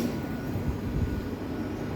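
A Hungarian Fecske electric train runs with a low, steady rumble and rolling rattle, moderately quiet and continuous throughout, with no voices.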